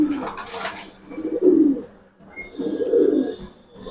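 Giribaz pigeons in a cage coo in two soft, throaty bouts, close by, with brief quiet gaps and a faint rustle between them.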